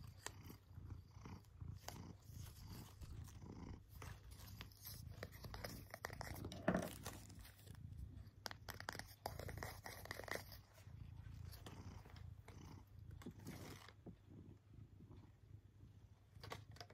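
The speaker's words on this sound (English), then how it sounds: "That's my cat Frankie." House cat purring up close, a low continuous rumbling throb that runs steadily throughout, soft and intimate with small rustles over it.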